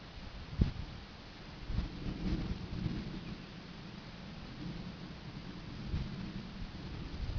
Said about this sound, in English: It's the storm we were waiting on right here.